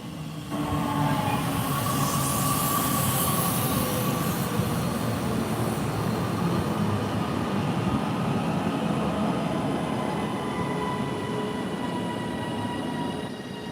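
A British Rail Class 331 electric train bound for Macclesfield arrives and passes, a loud sustained rumble and rush of wheels and carriages that builds quickly and holds steady, with a brief high squeal early on.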